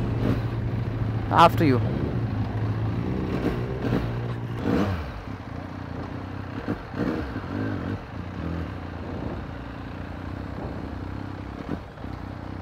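A Benelli TNT motorcycle, the TNT1130 or TNT899, ridden in India, its engine and exhaust rumbling and revving up with rising pitch before settling into a steady drone, with brief speech near the start.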